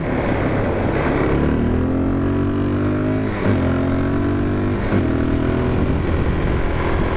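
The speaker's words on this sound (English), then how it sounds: "I'm going into expressway riding. It's gonna be pretty noisy" A Suzuki DRZ400SM motorcycle rides on an expressway in Singapore, its engine droning loud and steady throughout with rising and falling pitch as it shifts, mixed with constant wind roar.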